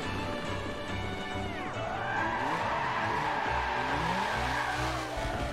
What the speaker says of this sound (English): I gotta drift this